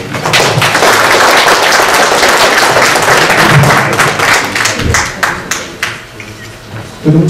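Conference audience applauding, a loud, dense burst of clapping that gradually thins into scattered claps and fades before a final thump near the end.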